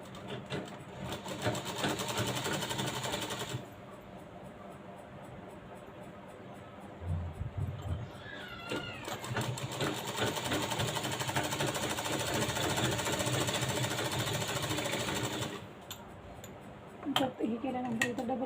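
A sewing machine stitches a cross strip onto a lined blouse, its motor running in long steady bursts with short pauses between them, close and fairly loud, with brief talk in between.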